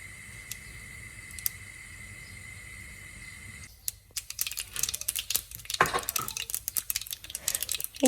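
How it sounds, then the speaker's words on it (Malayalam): Mustard seeds sputter and pop in hot oil in a pan while a Kerala moru curry is cooked, starting midway as a dense run of sharp crackles after a steady hum, growing busier and louder toward the end. "എണ്ണ ചൂടായതും ഇതിലോട്ട് കടുകും ചേർത്ത് കൊടുക്കാം."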